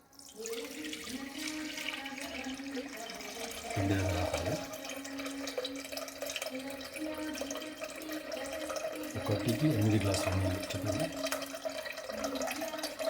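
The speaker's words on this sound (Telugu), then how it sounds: "ఒకటికి 8 గ్లాసుల నీళ్లు పోసానండి." Water being poured into a clay pot on a stove, about eight glasses for a sorghum ambali, produces a steady, continuous splashing rush that swells slightly midway and runs throughout.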